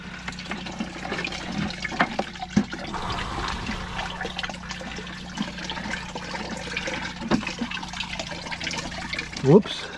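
A thin stream of water trickling into a bucket from a garden water supply during drought, a steady faint flow under room noise with brief knocks and a small clatter near the end.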